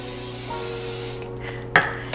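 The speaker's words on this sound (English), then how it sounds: "I'm gonna spray some more coconut oil spray." Coconut oil cooking spray hisses from a can into a preheated pan in one steady burst of about a second, followed by a short clatter and a faint second spritz, close and loud with no talk.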